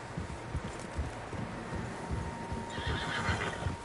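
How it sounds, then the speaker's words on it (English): Several horses in the video game Red Dead Redemption 2 whinny and neigh amid hoof clip-clops outdoors, moderately close against faint wind, with no talk. "Horses, quite a few of them."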